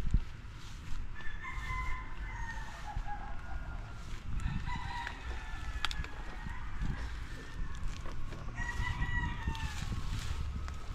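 A rooster crows repeatedly while chickens cluck around it in a rural yard, the calls clear and fairly close over outdoor ambience.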